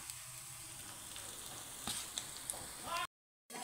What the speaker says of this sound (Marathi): तर आता या फोडणीमध्ये आपण भरीत घालून घेऊ